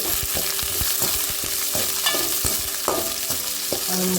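Onion, green chili and curry leaves fry in hot oil for a green banana stir-fry, giving a steady close sizzle broken by repeated scraping stirs of a spoon in the pan.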